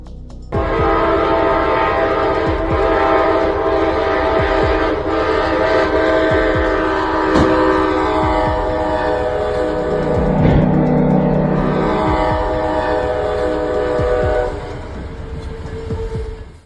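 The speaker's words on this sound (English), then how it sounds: "Dashcam video captures the moment a Norfolk Southern train derailed and crashed in Springfield, Ohio." A loud Norfolk Southern freight train rumbles steadily past a railway crossing with a sustained horn blaring over it, clattering wheels and a heavy crunching crash surge midway, then the noise cuts off.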